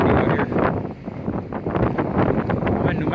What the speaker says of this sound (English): but it is fucking windy out here